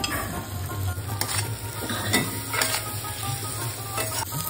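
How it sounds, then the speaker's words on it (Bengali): Fried potatoes stirred into sizzling spice paste for a vegetarian green banana dhoka curry, close frying hiss with irregular spatula scrapes and clinks against the pan, no talking. "এবার ভেজে রাখা আলুগুলো দিয়ে আর একটু কষিয়ে দেবো"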